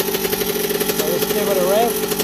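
A 1981 Yamaha YZ80H motorcycle engine idles steadily and close by with a constant mid-pitched drone, briefly rising in pitch near the end, while someone talks over it.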